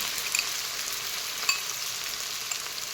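Steady, bright sizzle of onions frying in hot oil, a constant hiss with a few small pops, close and alone without any voices.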